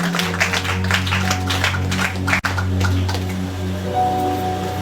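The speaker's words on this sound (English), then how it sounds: "Can somebody clap to the glory of God?" A church congregation claps together in a steady, dense patter under a sustained musical drone, with a brief sharp break midway before the clapping resumes.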